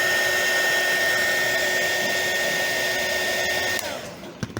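A heat gun or hair dryer blows hot air onto an action figure joint, a loud, steady whirring hiss that winds down near the end, followed by a few faint clicks.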